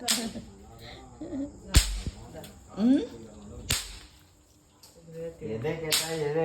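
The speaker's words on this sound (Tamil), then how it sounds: "தீபாவளி முடிஞ்சு குழந்தைங்க இப்பதான் வெடி வெடிச்சுட்டு இருக்குங்க" Several sharp firecracker bangs go off at irregular intervals, some close and loud, with voices and background activity between the bursts, after Diwali.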